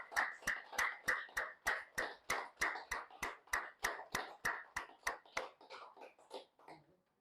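An audience at a seminar applauds in steady, rhythmic unison, about three claps per second, each clap crisp and evenly spaced, keeping on for several seconds before thinning out and fading at the end.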